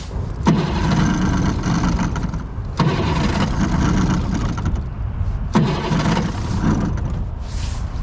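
The small motor of a toy open-hull clacker boat revs in three long bursts of throttle. Each burst starts abruptly and holds a loud, buzzing drone, separated by brief drops in pitch.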